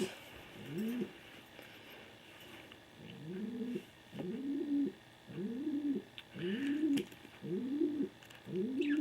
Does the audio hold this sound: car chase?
no